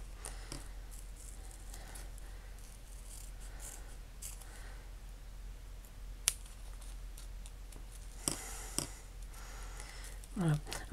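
Scissors trimming around simple shapes of homemade paper stickers, with light snips and rustling paper, a few sharper cuts near the end, faint against a quiet room hum.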